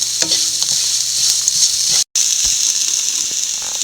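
Chopped papaya frying in a pan with green chillies, giving a loud, steady sizzle with scraping stir strokes throughout, briefly cut off for an instant midway.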